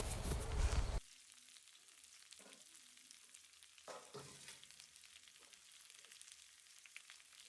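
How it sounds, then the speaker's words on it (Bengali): Potatoes frying in a pan with tomato, green chili and ginger-garlic paste: a loud burst of sizzle at the start drops to a steady low crackle, with occasional scrapes and knocks of stirring. "এবার আলুগুলোকেও এর মধ্যে ভেজে নেব।"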